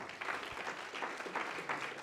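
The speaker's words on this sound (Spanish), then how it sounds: "Denle un aplauso al Señor" A congregation at an evening Spanish-language church service claps, a full burst of applause from many hands with a fairly steady, lively rhythm that fades slightly at the close.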